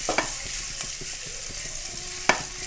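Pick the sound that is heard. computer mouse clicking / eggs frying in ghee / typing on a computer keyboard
eggs frying in ghee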